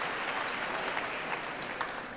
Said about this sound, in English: Now people are clapping again.